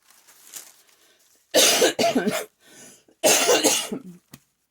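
Two harsh bursts of coughing, each a short cluster of hacks, close and loud, with faint throat sounds before and between them.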